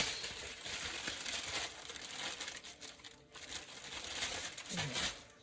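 Paper crinkles and crumples steadily up close, a continuous rustling texture with brief dips, no voices over it.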